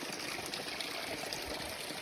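A clear mountain stream on the trail up Pedra da Mina in Brazil rushes steadily nearby, a dense, even wash of flowing water with no voices over it.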